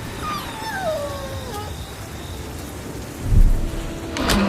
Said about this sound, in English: The wind was tearing tiles from the rooftops, and thunder roared across the sky.